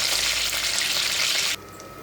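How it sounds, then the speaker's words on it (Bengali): Stuffed pointed gourd fritters frying in hot oil give a loud, steady crackling sizzle that drops suddenly to a quieter simmer near the end, with no voices. "আর এখানে ভাজা হচ্ছে"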